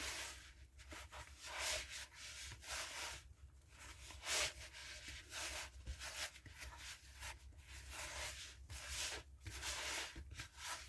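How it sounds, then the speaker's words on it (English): Sourdough English muffin dough being pressed and worked with flour in a bowl, giving a steady soft rubbing and scraping texture, quiet and close, with no talking. "Just pressing it in there, working it around to get all this flour incorporated into it."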